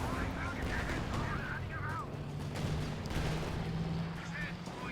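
An artillery barrage pounds away in a Company of Heroes match, a continuous rumble of heavy firing and impacts heard under a commentator's voice.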